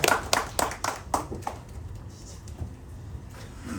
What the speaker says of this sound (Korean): 자, 박수로 모시겠습니다.